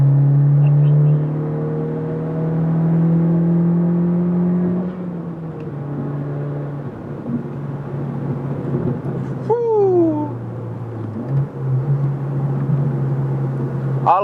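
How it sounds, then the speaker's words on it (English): A turbocharged car pulls hard in fourth gear, engine drone rising steadily in pitch, then dropping at a lift-off with whooshing and a whistling spool near the end, heard from inside the car. "All right, guys, another pull, fourth gear pull."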